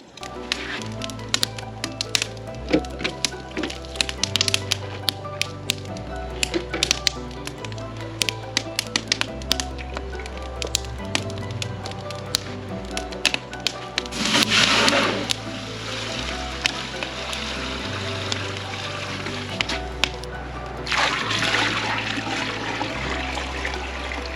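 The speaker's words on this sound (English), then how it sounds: "I'm going to grab a bucket and pour some in" Maple sap poured steadily into a 5-gallon bucket, gurgling and splashing, with scattered clicks and two louder rushing surges partway through, under a low repeating hum.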